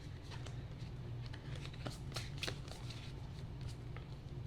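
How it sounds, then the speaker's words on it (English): Tarot cards are shuffled close by, a faint, quiet stream of soft riffling flicks and light card slaps repeating over several seconds. "One more shuffle I just heard."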